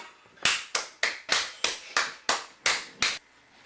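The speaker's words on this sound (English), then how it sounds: "Okay, kids, all clap." Nine slow, evenly spaced claps from kids on a home cooking show, crisp and close, with a short pause before the first and a fading tail after the last.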